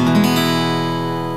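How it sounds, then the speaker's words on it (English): A guitar chord is strummed once downward across all strings and left to ring out, sustaining evenly and fading slightly. "Now strum down over all the strings."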